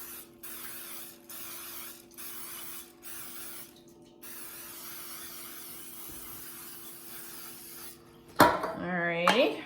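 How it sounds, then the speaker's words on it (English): Several short bursts of aerosol cooking spray hiss in quick succession onto a baking pan, followed by a clatter of the pan being set down and a voice beginning to talk. "we're going to start with spraying our pan really well."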